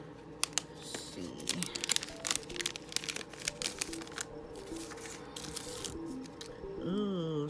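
A nail foil kit's plastic packaging is opened by hand, giving close crinkles, tearing and sharp clicking handling noises in an irregular run, with a voice at the end.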